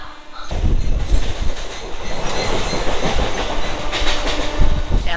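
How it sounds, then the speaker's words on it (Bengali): A nearly empty Howrah to Digha local train runs along the track, a loud rolling rumble with rhythmic wheel clatter that starts abruptly and builds to a few sharper clanks near the end. "এত ফাঁকা লোকাল ট্রেন আমি নিজেও প্রথমবার চড়ছি"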